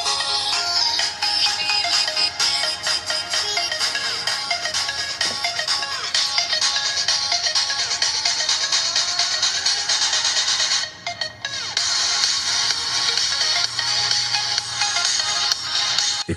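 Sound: phone audio played through Kospet Tank M3 Ultra smartwatch speaker

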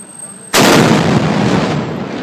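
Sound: cannon firing, loud explosion

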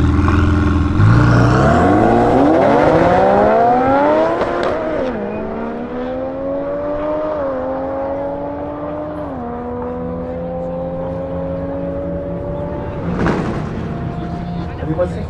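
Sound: Ferrari 488 Pista 720 hp accelerating in drag race

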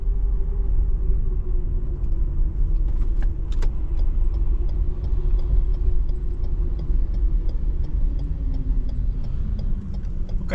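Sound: busy road traffic in Phnom Penh, Cambodia

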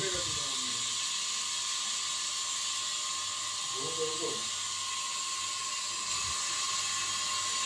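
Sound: curry leaves sizzling as they are added to hot oil

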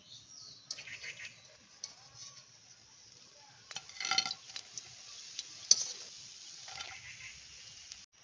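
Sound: fish roe kofta frying in a pan

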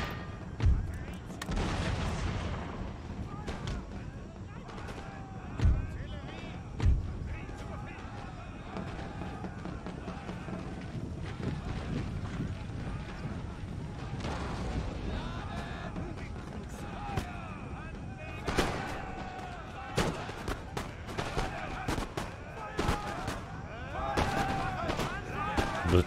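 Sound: platoon musket fire and cannons from the Empire: Total War video game

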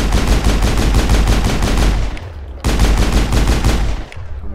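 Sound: sniper gunfire in Mass Effect video game

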